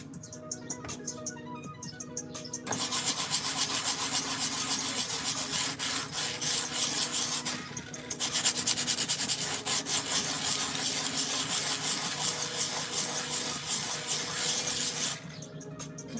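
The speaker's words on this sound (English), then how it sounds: "I feel like now I have to turn the music up because of the sanding" Hand sanding of wood in an art studio: steady, close rasping strokes run almost continuously with one brief pause, over quieter background music.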